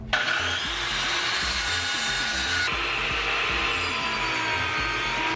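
A saw cuts through a half-inch piece of wood for a speaker bracket, giving a loud, continuous rasping stroke close by with no pause.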